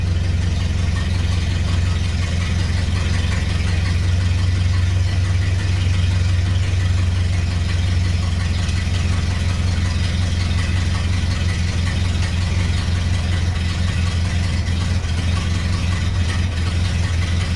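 A Ford Model A engine, a barn find just brought back to running, idles steadily and close by with a low, even throb that holds unchanged throughout, with no talking.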